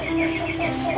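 Tiger Sasso chickens cluck in a coop, a short close burst of soft clucking over a steady background murmur.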